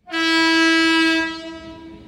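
At a railway level crossing, a passing train sounds one sustained, clear horn blast that holds steady for about a second and then fades away.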